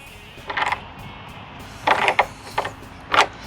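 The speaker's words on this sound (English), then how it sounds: "you can just tighten it the rest of the way with a socket or pliers, a wrench" A ratchet socket wrench tightens a deck framing bolt in several short, close clicking bursts, three main runs separated by pauses, each bright and rasping.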